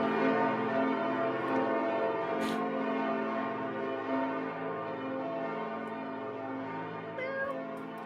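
A clock chimes like church bells, ringing tones sustaining and overlapping in a dense, resonant wash that stays loud and steady, with no talk.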